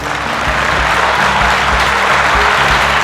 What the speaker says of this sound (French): Nous allons utiliser notre applaudimètre pour mesurer vos applaudissements.